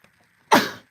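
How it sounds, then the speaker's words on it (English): A single sharp sneeze bursts out close and loud after a quiet moment, then trails off quickly. "I feel like I'm going to sneeze"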